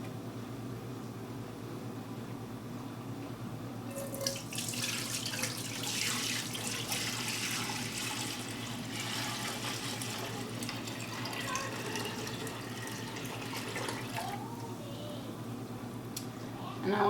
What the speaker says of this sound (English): So I'm just going to transfer it into this big stock pot, and I will warm it back up.